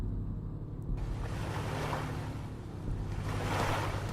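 Ocean waves wash against an island shore in a survival game, rising and falling in broad surges of noisy surf, fairly close and steady, with no talk.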